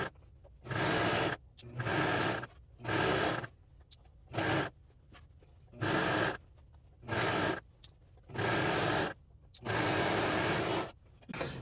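A serger sewing machine stitches a pants seam in repeated loud bursts of about a second each, separated by short silent pauses, close and clear.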